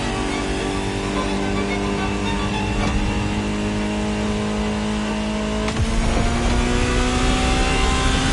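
A Ferrari supercar engine in a video game drones steadily and loud, with a sharp rev rise near the end; no voices.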